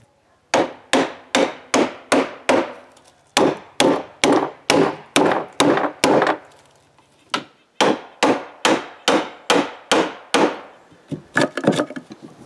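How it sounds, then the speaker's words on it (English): Rapid, evenly spaced mallet blows drive a chisel into a cedar table leg to chop a mortise, loud and close, in steady bursts of sharp woody knocks with a brief pause in the middle. "I can start to chop the mortise"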